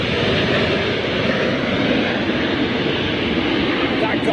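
An airliner lands at Heathrow Airport during a storm, its engines roaring loudly and steadily with a broad rushing wash of wind and engine noise.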